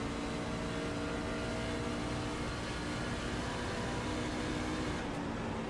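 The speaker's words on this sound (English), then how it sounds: "you don't hear the throttle pick back up until the center of the corner" Race truck engine in a racing video game at Miami, a steady droning roar holding throughout with no talk.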